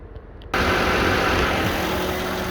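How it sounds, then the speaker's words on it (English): After a brief quiet moment, a 2019 Mercedes-Benz S560 AMG Line 4Matic engine starts up under the hood and settles into a steady, close idle hum that continues to the end. "I've got the engine running up underneath the hood"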